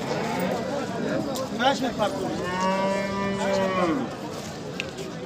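Cattle at a livestock market in Bokhtar give one long, fairly close moo that rises and falls, set amid a steady crowd murmur and people talking nearby.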